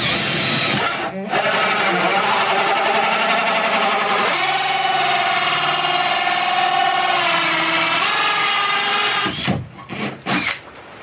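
A core drill bit boring through plywood lining inside a campervan build, a loud steady grinding whine running for about nine seconds, with a short break early on, before it cuts out and a few brief knocks follow.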